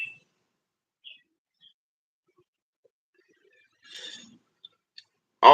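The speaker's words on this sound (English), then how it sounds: "listening to birds right now." A few faint, brief bird chirps sound sparsely in a quiet space, followed by a short, louder rustle and a sudden noise at the end.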